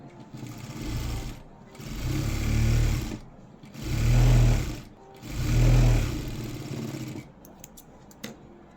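A sewing machine runs in three swelling bursts of motor hum and needle chatter while stitching the lining of a blouse, with short pauses between runs and a few small clicks at the end.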